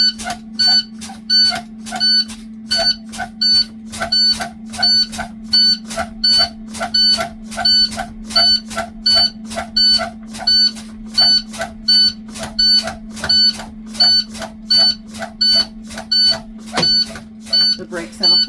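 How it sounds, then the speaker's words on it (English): On a bus, the low air pressure warning alarm sounds as a steady series of sharp electronic beeps in regular short bursts over a constant low hum, lasting the whole time. "At 60, the red lights and alarm should sound."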